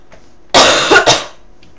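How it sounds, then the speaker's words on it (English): A single close, loud cough from a man playing Minecraft Hunger Games, one short harsh burst with a quick second push, alone against quiet background. "I seem to only cough when I talk a lot"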